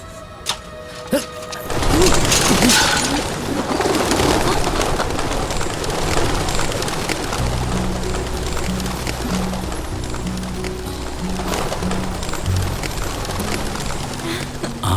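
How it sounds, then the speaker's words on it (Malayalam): Pigeons coo softly at first, then take off together in a burst of flapping wings, followed by a busy outdoor bed of fluttering and low rhythmic cooing. "പ്രാവുകൾ പറന്നുപോയത് കണ്ടപ്പോൾ എന്തോ ഒരു മാജിക്കൽ ഫീലിംഗ് ഉണ്ടായി"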